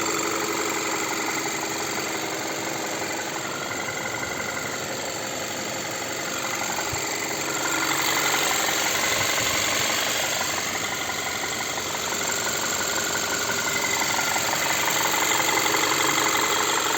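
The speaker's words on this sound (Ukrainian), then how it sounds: "Двигун працює ідеально рівно." A 2016 VW Tiguan 2.0 TSI engine idles smoothly and steadily at close range, a constant even hum with no voices.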